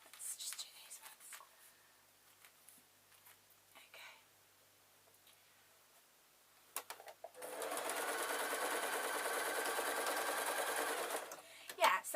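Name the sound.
sewing machine stitching a rag rug layer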